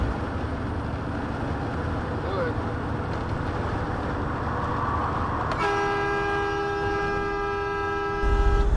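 A loud, steady truck air horn blast with strong stacked tones cuts in over rumbling road noise and holds for several seconds before stopping.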